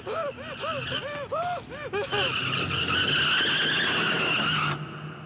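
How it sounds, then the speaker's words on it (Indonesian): A car speeds toward a man in the film Tetsuo: The Iron Man, with a few sharp gasps followed by a long, loud tire skid that screeches for several seconds before cutting off abruptly. "terlihat mobil yang melaju ke arah dirinya"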